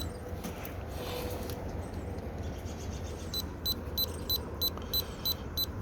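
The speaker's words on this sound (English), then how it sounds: "I don't know why it's beeping today." An electronic device gives a series of about seven short, high beeps at a steady rhythm over a low rumbling background.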